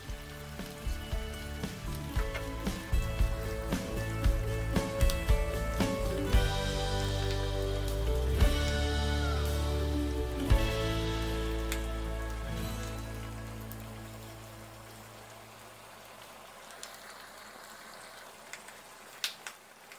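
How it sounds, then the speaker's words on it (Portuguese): Beef tallow rendering and frying in a large pot for soap making, a crackling, popping sizzle with scattered sharp pops over a low hum, loud at first then gradually quieter and thinner toward the end. "aqui já começou a fritar"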